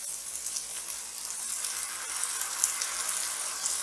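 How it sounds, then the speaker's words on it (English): Chole masala sizzling and frying steadily in a pan as tomato puree goes in, a continuous bright crackle without voices. "It's time to add our tomato puree."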